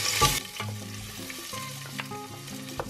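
Chopped onion dropped into hot oil with cayenne peppers for homemade salsa brava, crackling into a steady close sizzle with light stirring clicks and scrapes.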